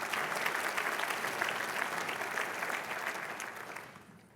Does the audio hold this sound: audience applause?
yes